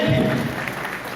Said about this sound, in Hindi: एक बार गजेंद्र सिंह शेखावत जी के लिए तालियां बजाएं।